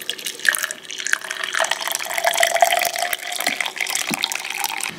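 Cooled boiled water pouring in a continuous splashing trickle, close and steady, with no talk over it.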